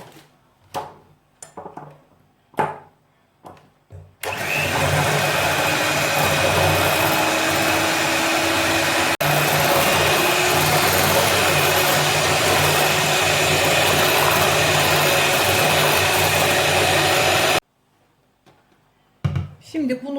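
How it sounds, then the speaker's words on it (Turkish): An electric mixer whisks carrot cake batter with powdered sugar, a loud steady whirring drone running for about thirteen seconds, bracketed by brief bits of speech before and after. "Hepsini birlikte çırpacağım."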